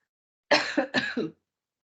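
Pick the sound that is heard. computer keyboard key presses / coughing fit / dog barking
coughing fit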